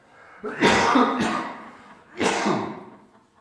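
Two harsh, chesty coughs close by, the first a long rasping burst, the second a shorter one about a second and a half later.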